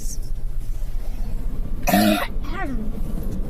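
A single sharp cough bursts out close to the microphone, followed by a brief throaty sound, against a low steady background hum.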